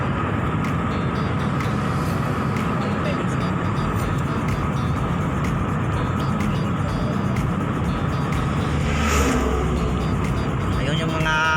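Trucks and other vehicles pass by steadily on a nearby road, a continuous loud traffic rumble with occasional rising passes, while a person talks over it.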